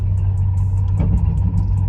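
An old car engine with a suspected failing water pump bearing idles close by, a loud low rumble with a steady, regular ticking or chirping repeating above it.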